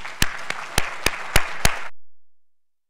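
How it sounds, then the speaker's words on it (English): A short burst of applause at an awards ceremony, with several distinct claps rising over a wash of clapping, then it cuts off abruptly into silence. "join me in giving her a round of applause"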